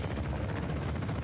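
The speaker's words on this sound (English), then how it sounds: "Oh, we got a helicopter." A helicopter in Call of Duty Black Ops 6 makes a brief, dense rotor-and-engine roar, loud and close, blended with rapid battle noise.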